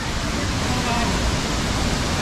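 A waterfall roars in a forest with people swimming in it, a dense, loud, unbroken wash of rushing water filling the scene with no break.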